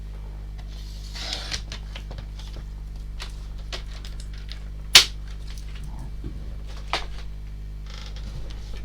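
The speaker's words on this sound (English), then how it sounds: "just use my trimmer and just cut this little sentiment to size" A paper trimmer slices a small card sentiment for a handmade birthday card, giving a few quiet close scrapes and ticks and one sharp snap of the blade, with no voice.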